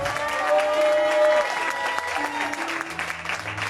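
An audience at a French-language church sermon bursts into applause and cheering, loud clapping rising and then tapering off, with a voice and sustained musical tones running beneath the crowd.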